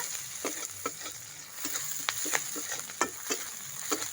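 Chopped onion with green chilli and tempering spices frying in hot oil, a steady crackling sizzle broken by sharp spatter pops and the occasional stir, close and moderately loud with no talking.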